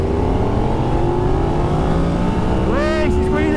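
A KTM Super Duke EVO or Yamaha MT-10 SP sport motorcycle engine revs up steadily and loudly in second gear, pitch climbing as it accelerates hard, with a brief high whine near the end.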